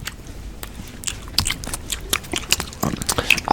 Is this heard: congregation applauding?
no